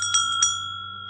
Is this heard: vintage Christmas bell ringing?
yes